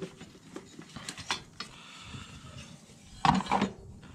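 Someone works a ratchet to remove the engine mount bracket bolts on a Mazda 3. Short bursts of close metallic clicking come in uneven runs, with a louder clatter near the end and no speech.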